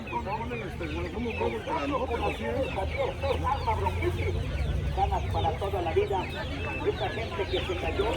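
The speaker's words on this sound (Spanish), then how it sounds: "Hay patos, hay pollos en gorda, hay pollos para comer" Many chickens cluck and chatter continuously at a busy market day in Tlaxiaco in Oaxaca's Mixteca region, close and fairly loud, with someone speaking over the birds and ducks nearby.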